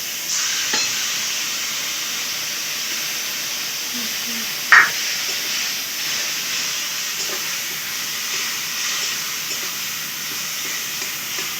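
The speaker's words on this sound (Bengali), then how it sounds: "এই যে মা এখন এটা টমেটোটা একটু ভাজা ভাজা করে নিচ্ছে।" Tomato and spices fry in a pan while being stirred, giving a steady, close sizzling hiss throughout with a single brief clatter near the middle.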